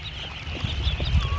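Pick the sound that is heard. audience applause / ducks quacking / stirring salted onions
ducks quacking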